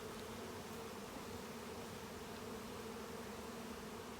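Honey bees buzz at a hive during an inspection, a steady, dense drone with a clear pitched hum that holds without a break, close and continuous, with no talking.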